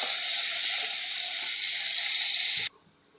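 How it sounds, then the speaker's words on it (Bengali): Chopped onion sizzles lightly in a hot pan while a chicken kasha is being cooked, a steady close hiss that stops abruptly near the end. "পেঁয়াজটা একটু ভেজে নেবো হালকা"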